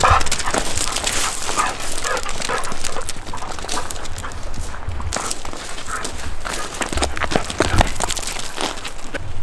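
A dog barks and whimpers in short, uneven bursts amid steady background noise, with scattered footstep-like taps throughout.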